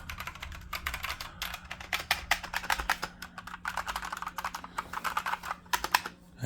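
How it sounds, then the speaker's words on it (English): Rapid, steady typing on a Dareu wireless ergonomic mechanical keyboard, with dense, loud key clicks and clacks following one another closely and no talking. "I do type fast."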